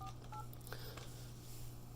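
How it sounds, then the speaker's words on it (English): Short DTMF keypad tones from an Avaya J-Series desk phone on speakerphone, a few beeps in quick succession over a steady low hum, close and moderately loud. "You can also just start dialing, and you can see that it's going to automatically activate that speakerphone for me."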